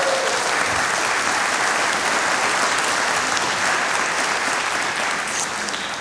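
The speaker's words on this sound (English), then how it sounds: "Can we give them a round of applause, please?" A full room applauding at a church-related conversation event, many hands clapping in a steady, dense roar that holds evenly and fades slightly at the very end.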